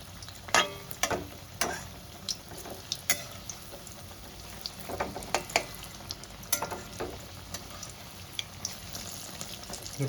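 Small egg and potato fritters frying in a pan, a low continuous sizzle punctuated by frequent sharp clinks, taps and scrapes as pieces are turned, close and with no speech.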